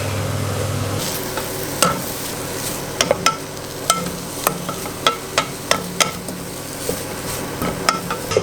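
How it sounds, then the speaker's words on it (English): Red onion, carrot and leek sizzle softly in a pan while a utensil scrapes and clinks against it in a steady series of stirring strokes. "And you keep on stirring. Make sure that the vegetables are not getting burnt."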